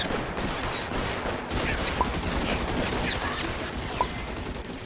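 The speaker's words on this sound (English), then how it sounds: "who's still shooting at me?" Gunfire crackles in a shootout in LA Noire, a steady stretch of mid-level shots and rattling bursts with a couple of sharper cracks standing out, no talking.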